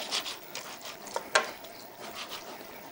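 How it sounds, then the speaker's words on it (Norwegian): Traditional bacalao stew being stirred in a pot, giving soft scraping and rubbing strokes with a couple of sharper knocks, close by and fairly quiet. "Jeg bare blander det godt sammen."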